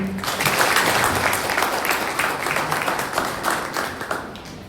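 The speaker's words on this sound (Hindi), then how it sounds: "इनके लिए तालियां।" An audience claps for honoured guests at a school event, close and loud with a dense, steady patter of many hands that holds for several seconds.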